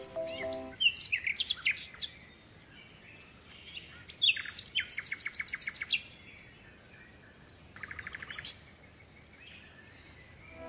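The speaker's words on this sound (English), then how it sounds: "P for parrot." Bird calls resembling a parrot: several bursts of sharp chirps and rapid trilled tweets, fairly close and clear, separated by short quiet gaps.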